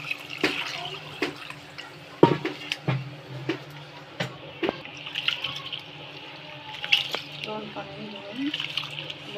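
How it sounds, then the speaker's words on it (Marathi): Dawat rice is washed by hand in a vessel, with swishing, trickling water and scattered clinks and knocks of grains and utensil, close by, while someone talks intermittently over it. "आपण इथं 1 किलो दावत राईस घेतलाय. तर मी आता त्याला धुवून स्वच्छ करते."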